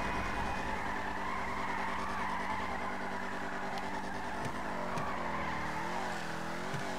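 A car in Grand Theft Auto V drives hard with a steady engine roar and long tire squeals as it skids and slides, loud and continuous throughout.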